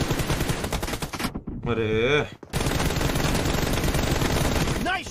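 Automatic gunfire in a 1v1 team-deathmatch shooting game: loud, close, continuous rapid fire that pauses briefly while a man exclaims, then resumes steadily to the end.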